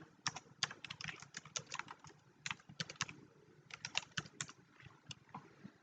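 Someone types a domain name on a computer keyboard, a quiet, close run of quick irregular key clicks in short bursts with brief pauses between them.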